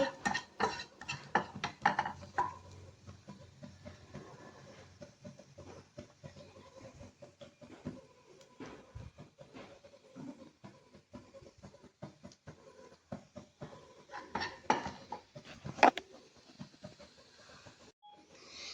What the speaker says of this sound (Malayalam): മുളക് പൊടി ഇടാം ഇളക്കാം